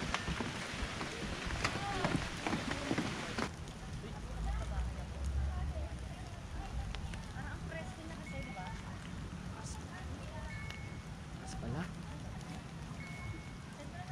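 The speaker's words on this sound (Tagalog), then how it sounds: "Okay na, mahina na yung ulan." Light rain patters steadily on surfaces nearby, a soft continuous hiss with scattered drops, and faint voices now and then.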